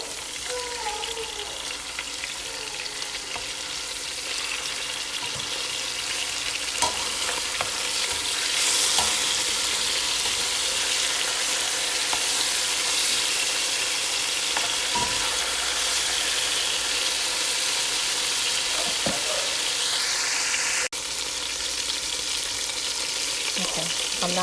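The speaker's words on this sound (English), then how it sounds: "the chicken is now, frying down. It's going to saute in the oil lightly" Chicken pieces fry lightly in hot oil for a noodle soup, a constant bright sizzle that runs evenly throughout, with occasional faint clinks and shifts from stirring.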